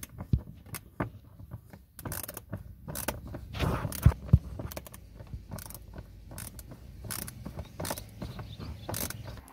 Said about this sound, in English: I removed the 8mm bolts